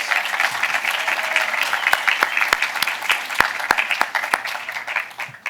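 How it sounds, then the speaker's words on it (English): A room gives a round of applause for the volunteers of a New York film festival, a dense, sustained roar of many hands with a few louder nearby claps cutting through, and no talking over it. "So I think that deserves a great round of applause."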